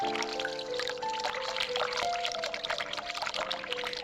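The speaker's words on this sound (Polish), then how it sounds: "No leje się ta woda." Water pours continuously in The Cat Lady video game, a bubbly, trickling splash mixed with soft tonal game-like notes in the background.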